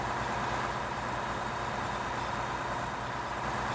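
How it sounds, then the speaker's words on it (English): The engine of a hired worker's farm vehicle left running in Farming Simulator 2017 gives a steady, close, unbroken idling rumble with no speech. "And they leave with the engine on."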